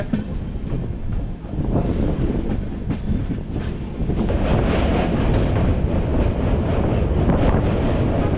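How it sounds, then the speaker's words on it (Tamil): The Nilgiris Express train, Chennai to Mettupalayam, rumbles along steadily after leaving Tiruppur, with continuous clattering and wind buffeting the microphone, growing slightly louder partway through; no voices. "இப்போது திருப்பூர்லேருந்தும் ட்ரெயின் ஸ்டார்ட் ஆகிடுச்சிங்க"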